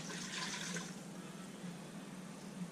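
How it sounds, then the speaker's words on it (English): RO water poured into a pot of chicken noodle soup, a steady liquid splash and gurgle that is strongest in the first second and then settles into a softer continuous trickle. "I'll add a little bit of water, and this is our RO water."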